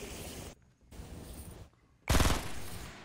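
Gunfire in a shooter game, bursts of rapid shots broken by short gaps, ending in a louder, closer burst.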